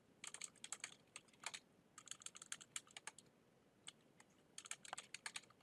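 Typing on a computer keyboard in bursts of quick, light clicks with short pauses between runs, close but quiet.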